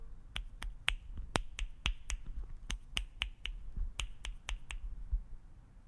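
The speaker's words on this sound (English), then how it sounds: "someone sitting next to you and snapping fingers" Sharp finger snaps repeat in a steady, fairly quick rhythm, about fifteen in a row, crisp and close over a low background hum, heard through Beats Studio Pro headphones in transparency mode.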